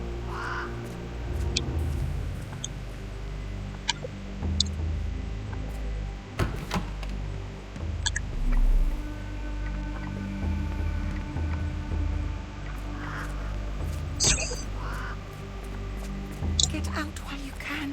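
Caged mynah birds in the Sherlock Holmes video game let out scattered caws and chirps over a low, humming indoor ambience, with faint voice-like murmurs underneath throughout.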